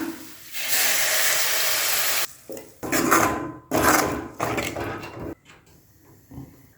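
A spoon scrapes and clatters in a pot of sundaikkai kuzhambu with tamarind water in short bursts, with sizzling and hissing from the cooking food.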